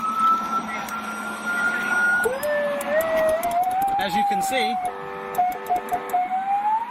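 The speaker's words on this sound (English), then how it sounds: "it has a functioning siren to go with the lights, alternating sirens" An alternating police siren on a vehicle at a traffic stop switches between rising wails and rapid yelping tones, loud and close, while someone talks over it.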